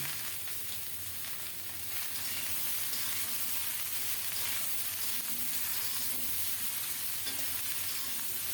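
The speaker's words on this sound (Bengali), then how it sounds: "কিছুক্ষণ নেড়ে চেড়ে সবজির সাথে ফোড়নটা মিশিয়ে দিয়ে" Cauliflower and other vegetables with a spice tempering fry in a pan, a continuous dense sizzle with soft stirring scrapes, close and even, with no voices.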